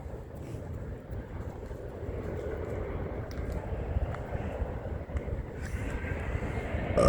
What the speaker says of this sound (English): here comes a plane landing at City Airport